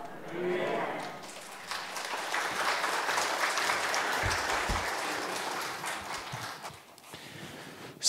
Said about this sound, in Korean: 설교 끝나고 난 다음에 박수 치는 거 오래간만입니다